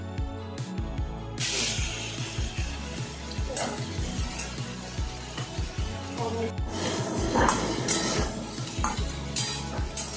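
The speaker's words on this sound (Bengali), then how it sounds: "তেল দিয়ে চিংড়ি মাছগুলো হাই ফ্লেমে এক দু মিনিটের জন্য ভালো করে ভেজে নেবে" Large prawns frying in oil in a wok over a high flame give a steady, close sizzle, broken by repeated clatters and scrapes of a spatula stirring against the pan.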